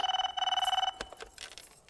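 A telephone rings in a fast electronic trill for about a second, then stops, followed by faint clicks and rustling.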